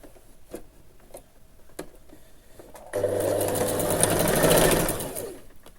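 A sewing machine stitches a pin tuck seam on a gathered summer dress, starting after a few quiet clicks and running in a loud, close, steady mechanical whir for about two seconds before winding down.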